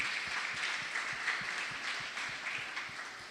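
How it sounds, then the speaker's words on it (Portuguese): A church congregation applauds during an evening worship service, a steady, moderately distant patter of many hands clapping with soft rhythmic thumps beneath, and no talking over it. "Dá um aplauso forte ao Senhor."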